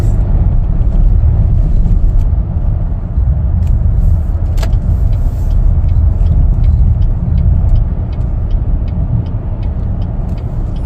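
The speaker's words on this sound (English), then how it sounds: "These 6 cylinders are great. A lot of power." A 2023 Chevrolet Traverse RS with a V6 engine cruises along, giving a steady, loud low rumble of engine and road noise with faint ticks above it and no talking.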